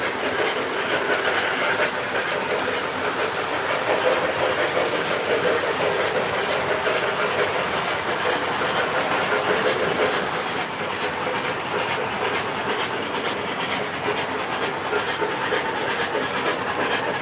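A model train engine runs steadily on its track, giving a continuous close clickety-clack and motor whir at even volume throughout.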